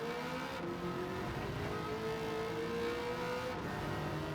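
A Corvette ZR1 C6 race car in Gran Turismo 7 holds a steady, sustained engine drone at high revs, its pitch sliding slightly, loud and continuous with no voices.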